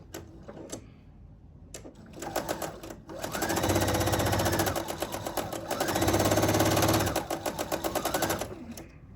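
A sewing machine stitches a quilt block in two steady runs of rapid needle clatter, each building up and then stopping, with a few short bursts and clicks before them.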